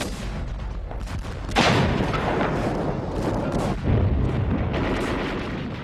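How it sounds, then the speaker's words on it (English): Heavy gunfire and artillery roar in a World War II battle in Burma, as British Indian divisions come under fierce fire; a dense, continuous barrage with sharp blasts rising near 1.6 and 3.9 seconds, no voices over it. "2 divisions of troops from British India came under fierce fire."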